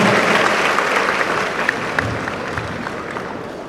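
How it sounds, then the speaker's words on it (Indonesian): Sustained applause from a large audience of transport-school graduates at a ceremony in a big hall, dense steady clapping with a few sharper claps standing out, no one speaking over it. "Terima kasih, tepuk tangan kita semuanya."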